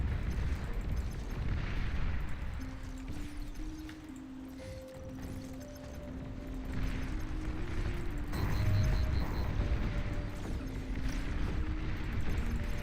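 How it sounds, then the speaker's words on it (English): A commander unit blowing up in the real-time strategy game Beyond All Reason: deep, continuous rumbling blasts and booming bursts, loudest near the end, layered under sustained tonal game music with no talking. "Enemy commander destroyed."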